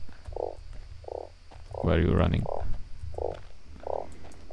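Frog croaks from the video game Starsand come in a steady rhythm of short, evenly spaced calls, about one every second. Someone speaks briefly over them in the middle.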